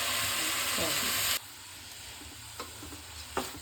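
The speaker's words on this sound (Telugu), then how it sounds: "ఇప్పుడు డ్రైన్ చేసుకున్న రైస్ మొత్తం వేసేయండి." Drained rice tipped into a hot pot over oil, a loud sizzling hiss that cuts off abruptly and gives way to quieter crackling with a few stirring scrapes.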